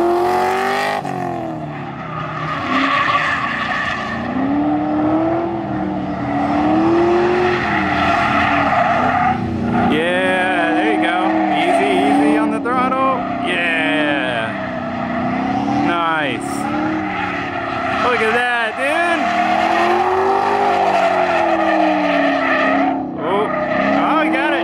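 A K24-swapped Nissan Cefiro lapping a track, its engine revving and rising and falling in pitch with tire squeal as it corners, loud and continuous, with people talking over it throughout.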